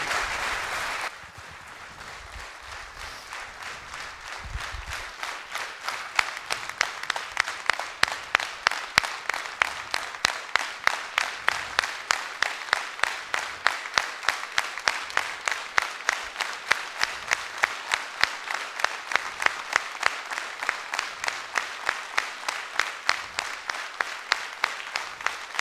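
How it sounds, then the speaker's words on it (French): Sustained audience applause at a mayor's New Year wishes ceremony in Fourmies, growing into steady rhythmic clapping that continues loudly for about twenty seconds without speech. "Je pense qu'on peut encore les applaudir."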